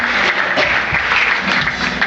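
A church congregation at a pastor's anniversary celebration applauds and cheers loudly and steadily, a dense wash of clapping filling the room without pause.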